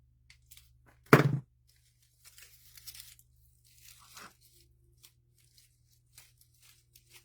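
Floral stems being cut down for a spring peony candlestick arrangement: one loud crisp snip or tearing crunch, then a few faint rustles and small handling noises in an otherwise quiet room.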